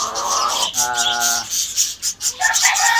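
Gamefowl hens at a pet market, white and gold birds among brown-red ones, giving loud, close, drawn-out cackling calls and clucks over busy market background noise.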